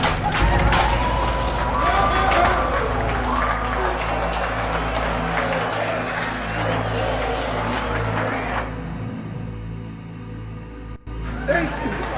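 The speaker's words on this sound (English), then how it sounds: "Give a big round of applause for Mr. X." Dense audience applause and crowd noise fill a stage magic show in a VR game, loud and continuous for about nine seconds before dropping abruptly to quiet room tone.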